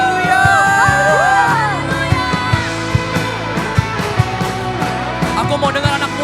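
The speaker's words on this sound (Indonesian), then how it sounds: "Sorakan haleluya." A church congregation at an Easter youth service shouting hallelujah, a burst of loud cheering and whooping voices that fades into scattered claps and calls over sustained music.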